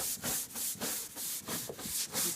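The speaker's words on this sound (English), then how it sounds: "So now we're going to come over and brush, adding a little more cleaner as we go." A stiff brush scrubbing deck cleaner into a wooden deck, lifting the old sealer, in steady back-and-forth strokes of rough rasping, close and continuous, with no voices.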